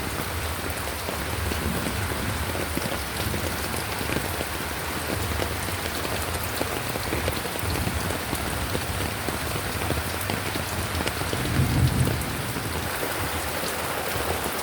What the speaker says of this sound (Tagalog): hindi na natin mapuntahan guys kasi ang lakas ng ulan